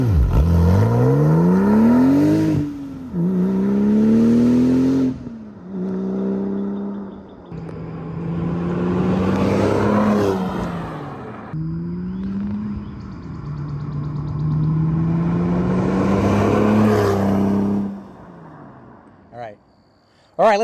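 A 2005 Porsche 911 Turbo S pushed hard along a back road, its engine rising and falling through repeated revving pulls and gear changes, loud and close, with brief lifts between bursts.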